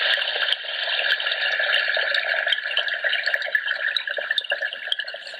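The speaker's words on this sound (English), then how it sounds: "Running water." Steady running water from an elephant-shaped essential oil diffuser trickles and bubbles continuously with faint drips, close and moderately loud, with no voices.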